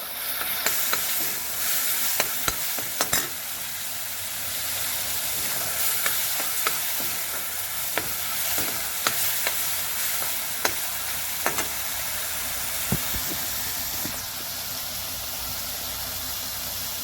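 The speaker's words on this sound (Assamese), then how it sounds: "এইখিনি অলপ ভাজি ল'ম" Lentils fry in a hot pan with a steady sizzle and hiss, while a spoon stirs and scrapes against the pan in frequent sharp clicks throughout.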